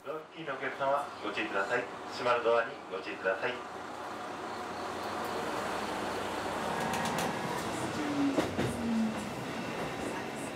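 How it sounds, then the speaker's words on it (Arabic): A small local train in Kyushu, southern Japan, pulls away: after a few seconds of people talking, a steady rolling rumble and hum build and hold, with a squeal near the end. "ركبنا القطار المحلي الصغير المستعد للانطلاق"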